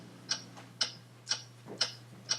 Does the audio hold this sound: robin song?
no